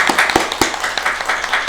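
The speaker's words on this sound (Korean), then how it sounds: "우리 박수를 한번 맞아주시죠" A church congregation at a Sunday worship service claps for a pastor and his wife in a brisk, uneven burst of close handclaps with a few louder individual claps standing out, no talking over it.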